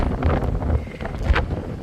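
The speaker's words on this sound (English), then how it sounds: "it's windy out here" Gusty wind buffeting the microphone, a rough low rumble with bursts of rustling, steady and close with no voices.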